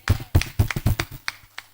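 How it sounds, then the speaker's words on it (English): At a coffee quality contest in Kigali, Rwanda, a handful of sharp, close hand claps land in an uneven rhythm and thin out toward the end. "Can you please clap for me?"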